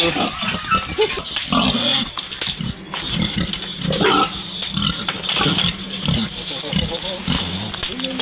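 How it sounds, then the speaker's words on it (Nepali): A pig grunts and squeals repeatedly at close range while people talk and shout around it amid a busy outdoor scuffle. "यो चाहिँ हाम्रो कान्छा भाइको सुँगुर हो"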